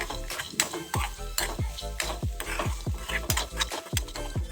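Masala sizzles in hot oil in a pan for a fish curry while a spoon stirs and scrapes it in quick, regular strokes, close and clear with no talking.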